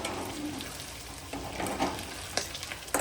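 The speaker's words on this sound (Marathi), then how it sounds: "मी आता मोठ्या गॅसवर तळते." Chicken 65 pieces frying in hot oil over a high gas flame, giving a steady crackling sizzle with occasional sharper pops and spits, close and moderately loud, with no talking.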